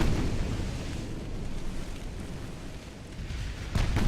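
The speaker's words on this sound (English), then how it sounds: "There they go, shooting at the transports." Naval guns open fire on troop transports in Ultimate Admiral: Dreadnoughts, a dense, continuous roar of booming salvos blending into one rumbling wash, with a louder surge near the end.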